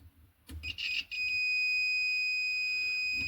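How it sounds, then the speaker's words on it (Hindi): A multimeter in buzzer continuity mode, its probes on a shorted filter in an LED TV power supply, gives a continuous high-pitched electronic beep. The tone starts after a click and brief scratchy contact noise, then holds steady and loud. "फुल्ली बजर बज रहा है, मतलब कि शॉर्ट है"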